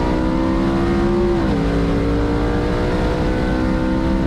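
A twin-turbo Shelby GT500 pulls hard at a half-mile top-speed event as boost builds, a loud sustained engine drone heard from inside, its pitch dipping once at a shift before droning on.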